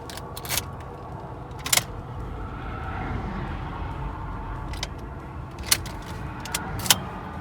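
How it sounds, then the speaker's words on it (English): An old 2008 car on the road, heard from inside as a steady low rumble and road noise, with a few sharp clicks and rattles scattered through it. "All right, I've begun my drive to see Noah Kagan."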